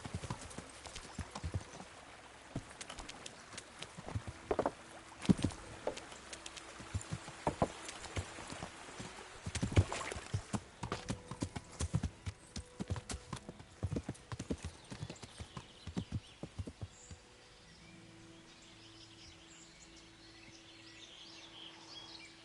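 Horse hooves clip-clop in Kingdom Come Deliverance on PS5, a brisk irregular run of close hoofbeats for most of the time, then fading to a quieter ambient drone near the end, with faint birdsong and occasional soft voices.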